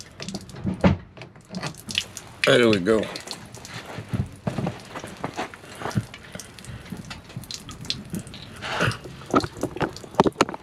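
Water drains from an RV's low point drains during winterizing, spattering and dripping onto the ground in an uneven, splashy patter close by, with someone speaking briefly over it.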